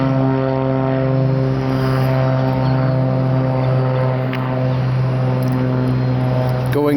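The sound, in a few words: Beech B36 propeller airplane flying overhead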